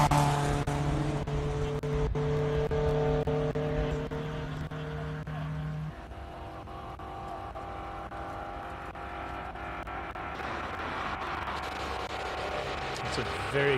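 Fiat 131 Abarth rally cars drive past at a classic car event, their engines droning steadily and then shifting into a rougher, rising roar as they go by. A commentator's voice talks over the engines.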